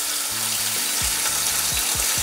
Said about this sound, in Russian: сейчас на сковороду. Слышите? Вот правильный звук.